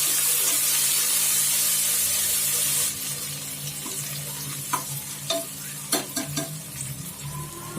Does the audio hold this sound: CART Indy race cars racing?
no